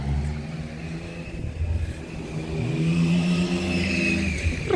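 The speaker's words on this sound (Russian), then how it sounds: "автобус приехал, класс" A bus engine rumbles up to a stop near Tibidabo in Barcelona. The motor's pitch climbs and holds steady while the vehicle pulls in close and fairly loud, with faint street ambience behind.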